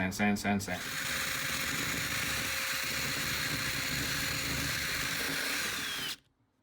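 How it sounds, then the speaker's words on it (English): A steady high-pitched whine of a rotary tool with a drum sanding bit grinding continuously for several seconds, then abruptly stopping; brief noise at the start. "I'm just going to be using the drum sanding bit."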